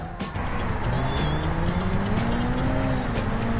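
Crash replay in the racing game Burnout on PlayStation 2: loud, steady engine roar with rising whining pitch and squealing tires, continuous and close.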